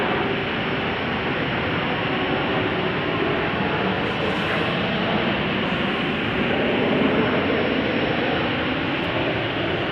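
A Boeing 777-300ER in Hello Kitty livery lands at Chicago O'Hare, its jet engines producing a dense, steady broadband roar that holds at an even, strong level throughout.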